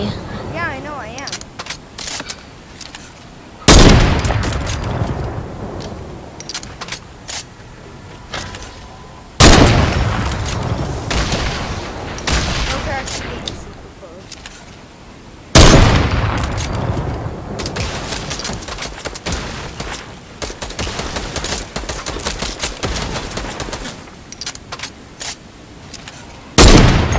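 Repeated bursts of gunfire and booming explosions in the video game Fortnite, loud sharp cracks and rumbling blasts coming in waves every few seconds, with players talking in between.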